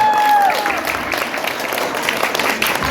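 An audience breaks into applause after a vocal group's folk song performance: dense, steady clapping throughout, fairly loud and close, with a brief sustained sung or held tone fading out at the very start.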